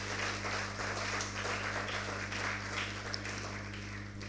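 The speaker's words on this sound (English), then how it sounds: "Let's give them a hand of applause." An audience claps for a St. Louis Demonstration JHS team at a school quiz competition, a steady wash of applause at moderate distance over a constant low electrical hum.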